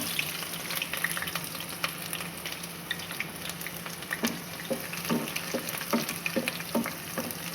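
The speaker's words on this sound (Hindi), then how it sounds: "तेल हमारा गर्म हो गया है, इसमें हम प्याज को डाल देंगे।" Sliced onions crackle and sizzle in hot oil as a kaleji palak gosht dish is started, with a steady close frying hiss broken by the irregular clicks and scrapes of stirring, and no voices.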